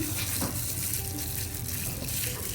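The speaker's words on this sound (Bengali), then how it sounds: "তেল বসিয়ে দিয়েছি, তেলটা গরম হয়ে গেছে, এখন আমরা ভেজে নেব। এবার ভেজে নিচ্ছি" Battered cabbage fries in a pan of hot oil, giving a steady, dense sizzle and crackle that stays close and even throughout, with no talking over it.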